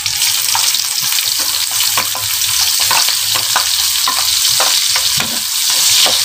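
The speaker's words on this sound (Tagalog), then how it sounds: "hintayin lang po natin mag golden brown yung ating uh, bawang" Garlic fries in a pan until golden brown for ginataang langka with pork and crab. A loud, steady sizzle runs throughout, broken by scraping stirs of the spatula.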